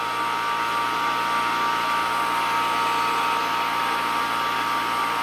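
Vacuum pump drawing xenon gas out of an electrical discharge chamber, a steady close mechanical whir with a constant tonal hum, unchanging throughout.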